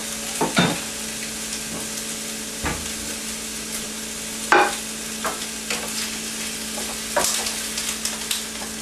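Chicken and peppers sizzle steadily in a hot pan on the burner, a continuous close crackle broken by occasional louder scrapes and clacks from stirring.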